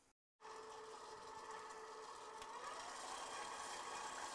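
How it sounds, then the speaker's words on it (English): A homemade mint chocolate cookies-n-cream ice cream mixture with Himalayan salt is whisked in a bowl, heard as a quiet, steady mechanical whir that starts after a brief silence and runs unbroken. "Just give it a quick whisk."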